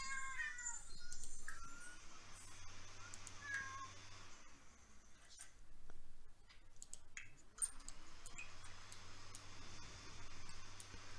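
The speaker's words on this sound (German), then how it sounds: "Gott, wie diese Katzen maunzen." Cats in The Sims 4 meow repeatedly at a low level, with several soft calls rising and falling over a quiet game background with faint ticks and hums.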